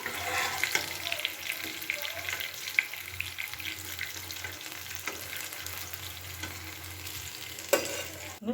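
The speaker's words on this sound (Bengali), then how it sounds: "বেগুনটাকে আমি কিছুক্ষণের জন্য ভাজতে দিয়ে দিলাম।" Eggplant frying in hot oil with a soft continuous sizzle and repeated scraping stirs, close but quiet, with a sharper clatter near the end, no voices.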